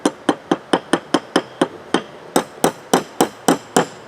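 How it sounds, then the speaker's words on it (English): Sharp metallic taps, about fifteen evenly spaced strikes of a hammer on a small lead wheel weight, close and clear with no talking. "Sometimes you can just tap your hammer with it."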